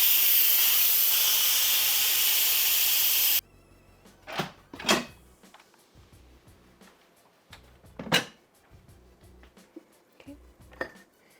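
Steam blasts loudly from a pressure cooker after cooking frozen sweet potatoes, a steady roaring hiss for about three seconds that cuts off abruptly, followed by scattered clinks and clatters of pots and utensils.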